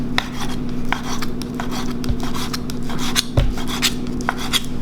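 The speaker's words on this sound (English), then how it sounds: "cutting the meat in small pieces and make sure you get rid of all the fat like so" A knife slices beef fillet into very thin, small pieces for steak tartare, giving soft, irregular scrapes and light taps against the board over a steady low hum, with no talking.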